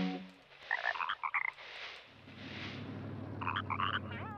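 A frog in the video game Chibi Robo croaks in short clustered bursts over a low, steady hum of game ambience, with a second run of croaks following a few seconds later.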